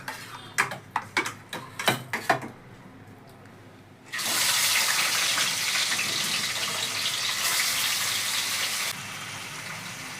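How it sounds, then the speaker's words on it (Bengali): Katla fish goes into hot oil: several sharp clicks and knocks come first, then a loud, bright, steady sizzle bursts in and holds for about five seconds before easing slightly. "তো তেলটা গরম হয়ে গেছে, মাছটা এবার তুলে দেব।"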